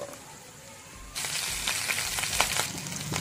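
Green chilies hitting hot oil in a kadhai with ginger garlic paste, a sudden loud burst of sizzling that jumps in partway through and keeps crackling steadily after a quiet start.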